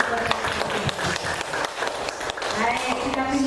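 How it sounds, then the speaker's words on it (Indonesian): A class of students claps for their teachers, with rapid, scattered hand claps that build to a fuller patter toward the end, mixed with a murmur of voices and children talking. "kita tepuk tangan dulu untuk Bapak Ibu."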